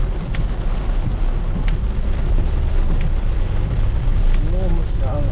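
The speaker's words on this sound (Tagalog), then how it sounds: "Oh, bumuhos na ang ulan." Heavy rain pouring down outdoors, a dense, steady roar that holds at an even loudness from start to finish, with faint voices and a few brief sounds over the top.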